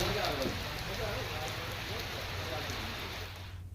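Heavy monsoon rain pours down in the Gir Gadhada area of Gir Somnath, a dense, steady hiss of falling water that stays constant and fades slightly at the end.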